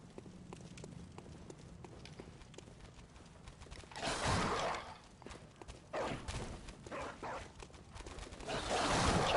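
Hunting dogs barking in the video game Bloodborne, several loud, rough bursts around the middle and end of the clip over a quiet background.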